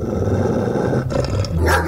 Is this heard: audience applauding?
no